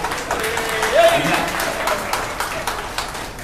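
An audience at an Ayyappa Swamy pooja claps steadily for Ananthi Amma, a moderate patter of hands running beneath a man's ongoing speech.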